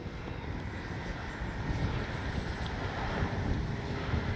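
Steady wind gusting across an open RC airplane flying field, a continuous broadband rush that swells and buffets the microphone throughout with no other clear sounds.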